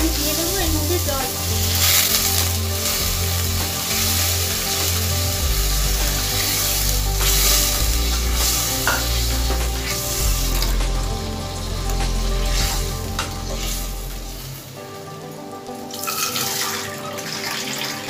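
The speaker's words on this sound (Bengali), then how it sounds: "এবার আমি দিয়ে দেবো এর মধ্যে জল।" Water pours into a hot pan of dim posto, an egg and poppy seed curry, with a loud steady rushing and hissing sizzle that runs continuously, then cuts off toward the end, leaving softer bubbling.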